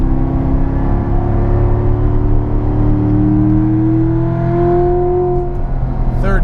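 A 600 HP Magnuson-supercharged C7 Corvette Z51 accelerates hard, heard from inside as a loud, steady engine drone with a rising pitch over several seconds and a constant road roar beneath.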